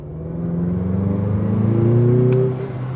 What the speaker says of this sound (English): Let's get on the throttle and see what we got.